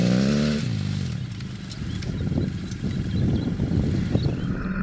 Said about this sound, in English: my friends that had dirt bikes took the opportunity to ride off-road